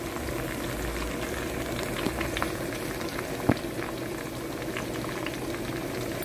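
Ivy gourd with turmeric cooking under a lid on low heat; a continuous soft bubbling sizzle, close and even, with one sharp tap partway through and no talking.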